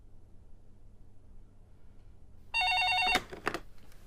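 An office telephone at a law firm's front desk rings once in a short, loud electronic burst after near silence, then cuts off amid a few soft clatters.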